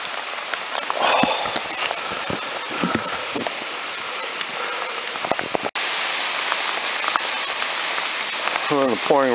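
Pouring rain on the Appalachian Trail in Mahoosuc Notch, a dense steady hiss of rain hitting surfaces and gear up close, with scattered drop taps and a voice briefly heard near the end.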